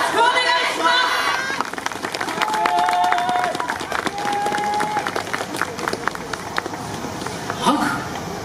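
Audience clapping for a yosakoi dance troupe on the Yoyogi Park stage at Harajuku Omotesando Genki Festival Super Yosakoi 2018: a dense, steady patter of many hands, with voices briefly sounding over it at the start and near the end.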